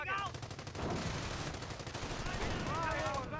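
Machine gun fire in a Company of Heroes battle on the Langres map, a dense run of rapid shots with scattered gunshots and battle noise, steady and loud throughout, with whistling tones near the start and end.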